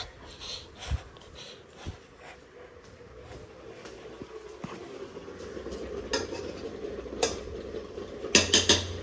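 Dishes and pots being washed in a home kitchen: scattered metallic clinks and clatters over a low background, growing busier with a quick burst of clanking near the end.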